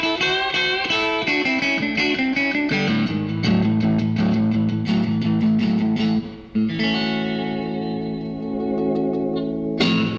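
A distorted Fender Jaguar electric guitar through a Super Reverb amp plays sustained surf-style chords and notes with heavy reverb, loud and close, ringing out continuously with a brief dip before a final struck chord.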